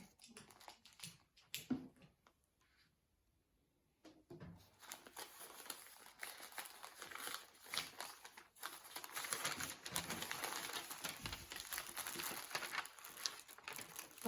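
Crinkling and tearing of a plastic packet of DMC embroidery threads being opened up close, sharp rustles and crackles that come in bursts and then carry on more steadily.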